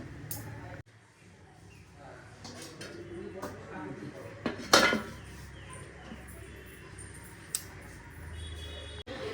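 A dish is set onto a metal stand inside a cooking pot for steaming fish, making one sharp clink amid faint kitchen noise while someone talks quietly.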